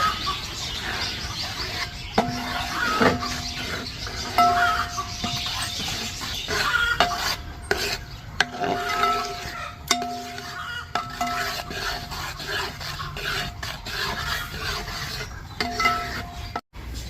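A spoon stirs coconut milk simmering in a pan, making a soft continuous bubbling hiss with occasional scrapes and knocks, while hens cluck intermittently in the background.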